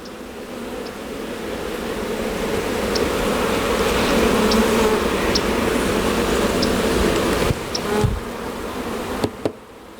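A dense, steady hum of many bees buzzing fills the air close by, continuous throughout with a few faint clicks near the end.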